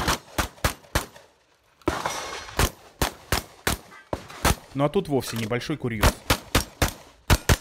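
Shotgun blasts ring out at targets in a Russian national shooting competition, sharp loud reports in quick irregular bursts with a short pause early on, as someone talks between and over the shots.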